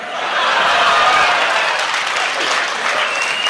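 At a Hindi poetry recital by Shambhu Shikhar, an audience bursts into warm, sustained applause mixed with a little laughter, rising quickly and holding steady for a few seconds.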